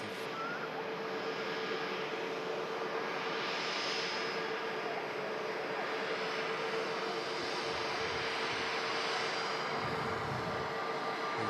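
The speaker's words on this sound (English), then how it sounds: "There's the Icelandair 76. Just entering the active." Icelandair jet airliner taxiing onto the active runway at Manchester Airport, a steady, fairly faint broadband engine roar that holds for the whole stretch with a slight swell midway, no talk over it.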